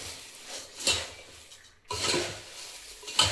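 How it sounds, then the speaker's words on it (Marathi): Kothimbir chivda is tossed and stir-fried in a pan on a gas stove, dry crunchy rustling and clinks of a spatula against metal in two close bursts separated by a brief pause. "आता थोडासा गॅसवर ठेवून परतून घेऊया."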